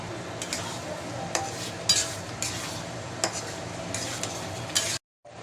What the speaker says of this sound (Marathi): आता मॅश केलेल्या भाज्या टाकून घेते।